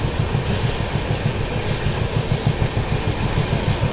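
The 12556 Gorakhdham SF Express runs along the rails with a steady, loud rumble and a regular clickety-clack of wheels over rail joints, heard from on board.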